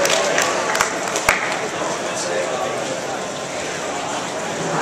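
A crowd at a fighters' weigh-in claps and cheers in a dense, steady wash of applause, with a few sharper claps standing out over the roar.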